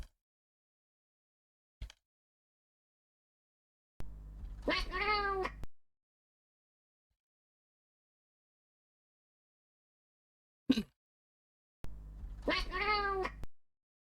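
Two drawn-out cat meows, clear and close, each about a second and a half long and separated by a long silence, with brief soft clicks in between.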